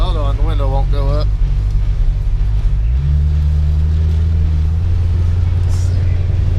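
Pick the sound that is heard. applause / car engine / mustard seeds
car engine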